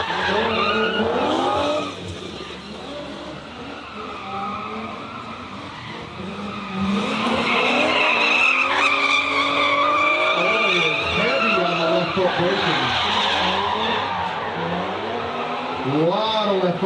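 Drift cars skid through a drifting competition on the plains, tires squealing in long wavering sweeps as engines rise and fall, loud and close throughout, with a commentator's voice running underneath.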